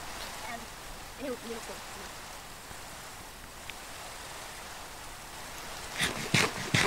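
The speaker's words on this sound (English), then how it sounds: "It's raining so much." Steady rain hiss in Minecraft fills the clip, with a few faint blips and some louder crackling bursts near the end.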